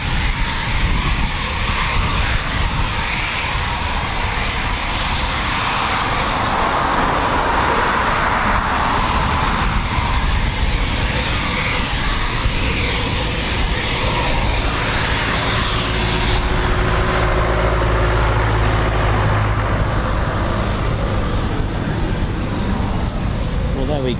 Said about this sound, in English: not seen the Typhoon T3 on a taxi training run